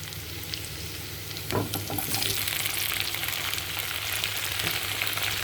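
Tomatoes dropped into onions frying in a kadhai, with a sudden burst of sizzle and stirring midway that settles into a steady, loud crackling fry.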